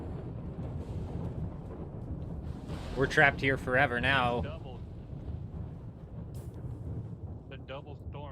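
A desert storm in Dune Awakening, a steady low roar of wind and rumbling gusts, with a person speaking briefly over it midway.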